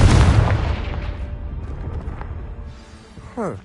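A Confringo blasting spell in Hogwarts Legacy detonates with a loud, close boom that decays into a long rumbling tail, followed by a brief whooshing sweep near the end.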